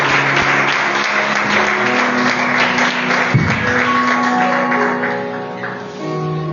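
A church congregation applauds loudly and continuously, a dense close wash of clapping that lasts several seconds. Faint sustained tones sit beneath it, and the clapping eases slightly toward the end.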